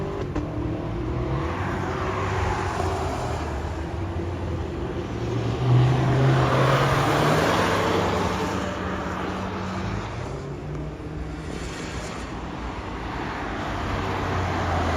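BMW M2 and M4 cars lapping a race track at Buddh International Circuit, with a steady engine drone that swells and fades as they pass, heard continuously at moderate distance.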